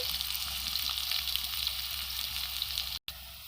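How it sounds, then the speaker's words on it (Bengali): Eggplant and beetroot pieces fry in hot oil, giving a dense, even, crackling sizzle up close. It carries on without a break except for one brief dropout near the end. "বেগুন ভাজা হচ্ছে এখানে বিট ভাজা হচ্ছে"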